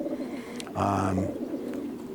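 Racing pigeons coo in a loft barn shared with horses, one soft low coo rising briefly over faint background noise, close and quiet.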